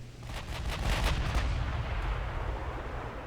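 Battleship turret guns firing in the naval game Ultimate Admiral Dreadnoughts, a dreadnought against modern cruisers: heavy booming salvos with a rolling low rumble that swells and lingers, no voices.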